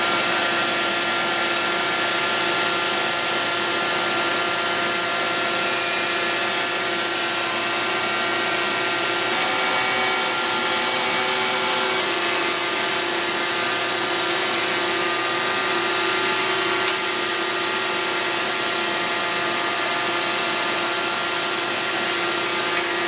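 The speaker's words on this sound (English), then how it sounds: "let's go ahead and put a chamfer on the material and we'll see how it does" A Festool HL850 electric planer mounted in its bench unit chamfers wood with a loud, steady high-pitched whine and rushing hum that carries on without pause, close and alone with no talking.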